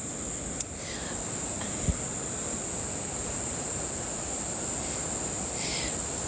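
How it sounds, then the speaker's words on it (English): Cicadas buzz in the trees outdoors: a steady, high, unbroken drone that holds at an even loudness for the whole stretch, with a few faint chirps over it. "you may be hearing cicadas up in the trees behind me, so if you are hearing a buzzing"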